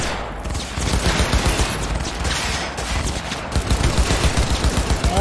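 Dense automatic gunfire rattles steadily through Cyberpunk 2077 combat, loud bursts running almost without pause from start to finish.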